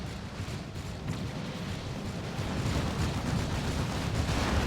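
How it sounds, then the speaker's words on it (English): Psy Cannon fire striking a Carnifex in Dawn of War 2: Retribution, a continuous rumbling barrage of explosive blasts that grows louder and denser through the second half. "Now it's taking Psy Cannon fire."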